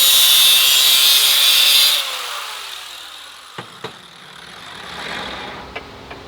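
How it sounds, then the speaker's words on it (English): A power tool cuts metal stock for a motorcycle sissy bar, starting with a loud, steady high whine that stops abruptly. A few faint knocks and clatters follow in quieter surroundings. "So I'm gonna cut a couple chunks out of this"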